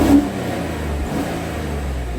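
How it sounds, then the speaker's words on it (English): A car engine held at full throttle during a crankshaft relearn procedure for a P0315 fault, a steady loud drone with no talking. "With your other foot, press on the gas pedal,"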